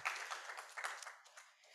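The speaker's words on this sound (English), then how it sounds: "Let's do a round of applause there on that one." A faint round of applause from an audience at a Wall Street finance talk, quick scattered clapping lasting under two seconds, distant and soft.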